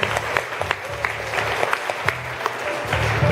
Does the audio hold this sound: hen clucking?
no